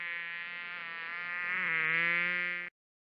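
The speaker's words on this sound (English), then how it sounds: "Ow, I got bitten by a mosquito" A mosquito sound effect in a children's camping story whines steadily for nearly three seconds, a thin, close, high-pitched buzz that swells slightly louder toward the end before cutting off abruptly.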